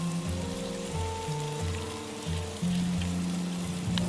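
Kielbasa and cabbage sizzle in canteen cups over a campfire, a close, steady frying crackle with a few stirring clinks and no talk.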